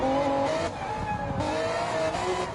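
A race car in the Gran Turismo video game runs flat out through 130R at Suzuka, loud sustained engine whine with pitch shifts as it brakes hard and downshifts for the esses.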